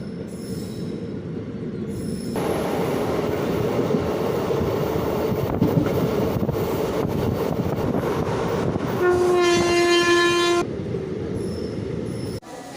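A passenger train on the Shoranur–Nilambur line rumbles steadily along the rails up close past Vallapuzha railway station, growing louder, and a long horn blast sounds near the end.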